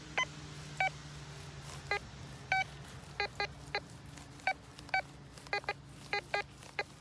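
A metal detector sweeping a vineyard gives short, bright electronic beeps, repeated irregularly about a dozen times over a steady low hum, fairly clear and close.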